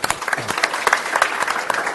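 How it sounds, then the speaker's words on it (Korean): Brief lively applause from attendees at a Suwon city directors' meeting, honoring a school support section chief, with crisp overlapping claps at close range. "우리 강윤석 과장님께도 박수 크게 한번 해주세요."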